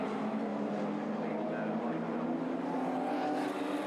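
Super Rod race cars roar together around the Northampton oval in a national championship race, a dense sustained engine drone that swells slightly as the pack passes, with no pause in the noise.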